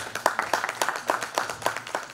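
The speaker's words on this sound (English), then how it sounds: "we must support them with a huge round of applause" Steady rhythmic audience applause at the Bhopal Literature Festival, about four claps per second, with a mid-distance, slightly roomy sound and no voices over it.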